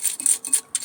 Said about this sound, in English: So just brushing all the crud off.